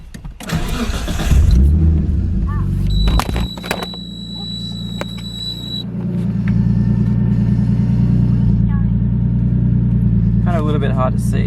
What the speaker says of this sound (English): quickly start the car up